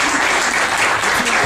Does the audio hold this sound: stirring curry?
no